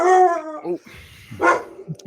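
A dog gives a couple of loud, close barks with a short whine between them, breaking into a recorded fantasy football talk show, with other sounds in the gaps.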